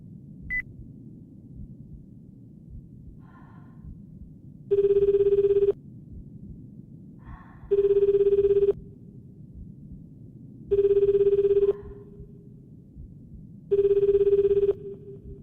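A phone rings four times inside a video game, each ring a bright, steady electronic burst lasting about a second, spaced evenly over a constant low ambient hum.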